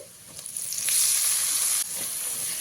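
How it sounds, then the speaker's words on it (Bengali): Chopped tomatoes frying with turmeric in a pan for a Bengali vegetable dal give a loud, steady sizzle that swells and crackles close by, with no talk. "এবারে এখানে দিয়ে দিচ্ছি টমেটো কুচি"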